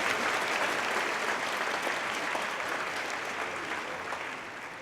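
Sustained applause from a seated audience at a UCLA humanities commencement ceremony, greeting speaker Steve Milner, a dense steady wash of clapping that holds evenly and tapers slightly near the end, with no talking over it.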